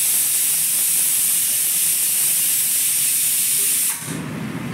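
A kitchen pressure cooker used for making chole vents steam in a loud, steady, broadband hiss that fills nearly the whole clip, then cuts off abruptly near the end, leaving quieter room noise.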